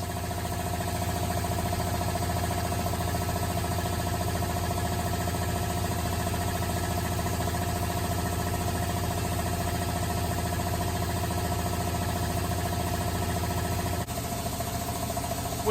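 A CA3 series 15 horsepower electric industrial air compressor runs steadily from about eight feet away, a constant rhythmic pumping hum with mechanical clatter that holds at one level throughout.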